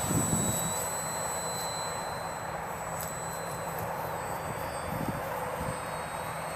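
An E-flite A6M5 Zero RC airplane flies on its electric motor, giving a thin, steady whine at a moderate distance over a soft background hiss, with no talking.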